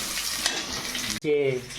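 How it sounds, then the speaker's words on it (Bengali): Eggplant fries in a pan with a soft steady sizzle and light stirring, quiet and close, with no talking. "এই বেগুনটা একটু ভেজে নেব"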